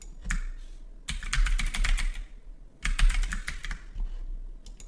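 Bursts of rapid clicking on a computer keyboard, several quick flurries of keystrokes separated by short pauses, close and clear with no talking.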